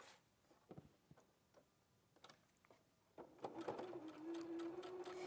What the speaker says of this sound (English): And then I'm going to sew this one down.